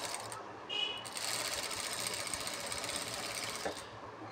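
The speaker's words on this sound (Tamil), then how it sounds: "இப்போ நம்ம இதை ஸ்டிச் பண்ணிட்டு வந்துடுவோம்." A sewing machine stitches a potli box with a fast, continuous mechanical whir and rattle, close and steady throughout, briefly louder near the start.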